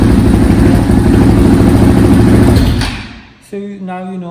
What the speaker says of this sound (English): You can even start the engine.